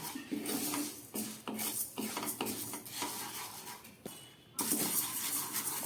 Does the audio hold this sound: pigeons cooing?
no